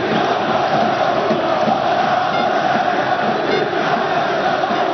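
Al-Ittihad football fans in a stadium, a broad, loud wash of crowd noise with sustained chanting and cheering, steady and distant-sounding across the whole stretch.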